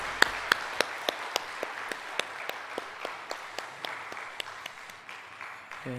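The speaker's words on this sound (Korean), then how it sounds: "교회를 세우신 하나님께 감사의 박수를 올려드리겠습니다" A church congregation at a Sunday worship service claps, sharp separate claps at a fairly even, sparse rhythm, like a modest group clapping in time, moderately loud with room ambience and no talk.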